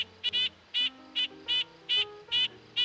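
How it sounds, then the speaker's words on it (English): A nuthatch gives a series of short nasal notes, single and doubled, in an irregular rhythm, clear and fairly close against a quiet background. "if you listen carefully to the nuthatch call, it lacks the descending notes of the pika call at the end."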